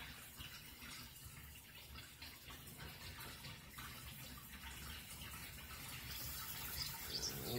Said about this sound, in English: Hot water is coming through into the shower.